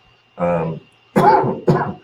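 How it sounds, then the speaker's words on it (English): A voiced throat sound followed by two sharp, close coughs in quick succession from a man with allergies. "I'm sorry about my cough, my allergies are bothering me."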